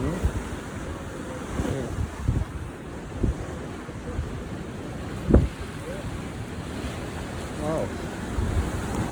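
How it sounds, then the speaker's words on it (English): Rough South Atlantic Ocean waves surge and wash around a jetty under gusty wind buffeting the microphone, with occasional heavier splashes and brief exclamations from a person nearby. "Look how rough the water looks."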